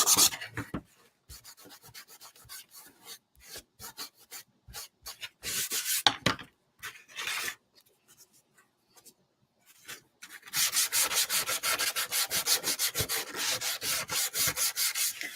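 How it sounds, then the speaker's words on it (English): Sandpaper rubbed by hand along the grain of a wooden tiered tray, close and loud, in bursts of brisk back-and-forth strokes with short pauses, then a long steady run of rhythmic scraping. "you just want to find that direction and follow it with your sandpaper"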